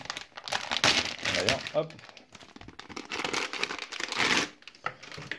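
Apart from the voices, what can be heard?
opening plastic packaging of an HDMI cable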